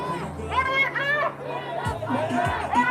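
Crowd chatter from protesters gathered outside an ICE detention center in Broadview, Illinois, with several nearby voices overlapping into a steady babble and a few brief low thumps underneath.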